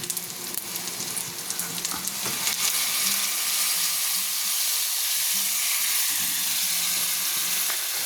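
Beef tenderloin sizzling in a pan with garlic, onion and fish sauce for lomo lomo, a loud steady frying hiss and crackle that carries on without a break.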